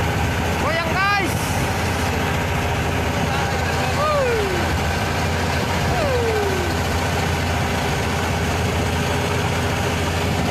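A fishing boat engine, a Mitsubishi marine motor, runs steadily at sea in the Malacca Strait off East Aceh, a continuous close drone under brief whistling and chatter.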